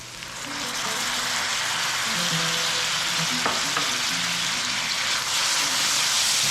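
Onions and garlic frying in a pan: a loud, steady sizzle and hiss runs throughout with faint stirring scrapes, no talk over it.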